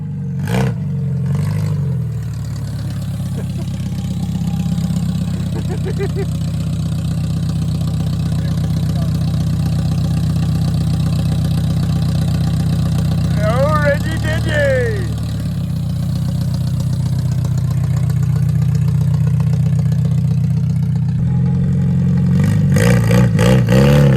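A two-door car with a transmission that had been shifting when it shouldn't runs steadily throughout a test drive, a loud continuous engine drone that swells briefly as it revs midway, with some talk over it.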